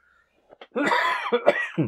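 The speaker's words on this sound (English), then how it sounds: "you can hear me coughing again in the background" A single close, harsh cough bursts out, followed by a couple of rough throat-clearing hacks, at a shoot.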